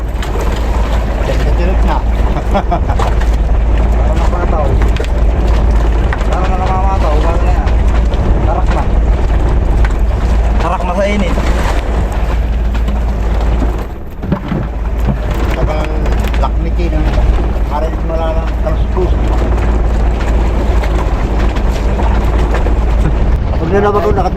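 Heavy wind buffets the microphone with a constant low roar aboard a small boat in a strong current, while voices talk intermittently underneath.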